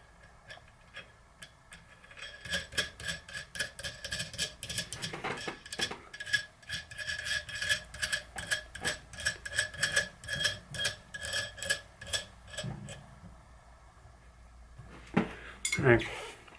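A nut being threaded back onto a Cero AR30 bicycle freehub body, giving a run of rapid, close metallic ticks and clicks that pause and resume near the end.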